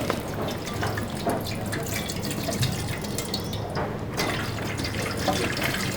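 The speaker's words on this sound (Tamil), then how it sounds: "இப்போ இதில் பார்த்தீங்கன்னா 1 லிட்டர் தண்ணி ஊற்றுறேன்." Water poured from a tap into a large restaurant cooking pot, a steady splashing and trickling stream with small drips, fairly close and running throughout without pause.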